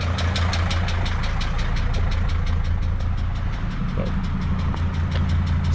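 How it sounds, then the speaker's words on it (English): Diesel engine of a 2006 Sprinter T1N idling smoothly with a rapid, steady injector tick riding over a continuous low rumble, close and consistent throughout. "Aside from the tick, nice smooth idle though"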